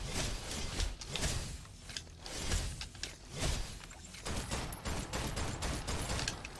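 Rapid bursts of gunfire fill a video game battle, dense volleys and shots crackling almost continuously with swooshes and mechanical clatter mixed in, loud and busy throughout.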